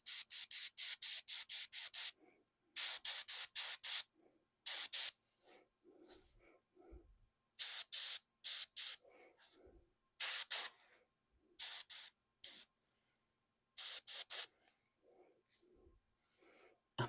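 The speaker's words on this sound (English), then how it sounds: "Spray his helmet." An airbrush sprays paint onto the helmet of a Warhammer Ultramarines miniature in repeated short hissing bursts of one to two seconds, close and steady, separated by quiet gaps with faint handling sounds.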